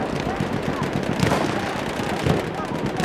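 In Battlefield 1, a mounted machine gun fires in rapid repeated bursts, loud and continuous with rhythmic thumps and scattered distant battle noise mixed in, while a voice speaks over it.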